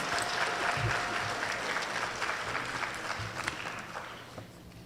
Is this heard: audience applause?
yes